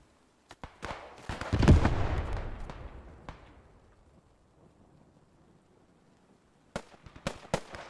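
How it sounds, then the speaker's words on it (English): Machine-gun fire in a one-life realism battle game: a deep, rolling boom that slowly fades into quiet, then a short, sharp burst of rapid shots near the end, with no talking. "Look at the MG fire"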